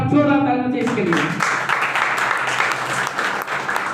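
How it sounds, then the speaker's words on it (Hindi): Applause breaks out at a motivational business meeting, starting after a brief spoken voice and then continuing as steady, moderately loud clapping from a gathered audience. "एक बार जोरदार तालियां चाहिए इसके लिए"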